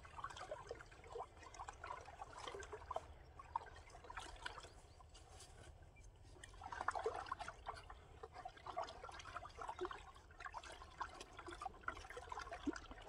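15-15-15 fertilizer being stirred by hand in water to dissolve it for drip irrigation: a faint, steady sloshing and trickling of water that swells slightly midway, with no talking.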